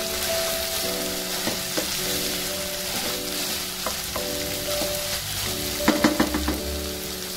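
Potato with bitter gourd and dried kachki fish sautés in a pan, giving a continuous close sizzle broken by several scraping stirs, with a louder cluster of stirring clatter near the end.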